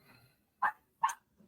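Two short barks from dogs indoors, moderately close, with a faint yip trailing after, then quiet.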